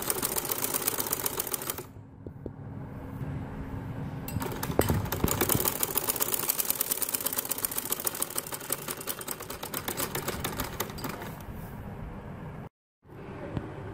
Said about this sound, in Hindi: अब मैं यहाँ बखिया इसको सिलाई कर दूंगी सारे का।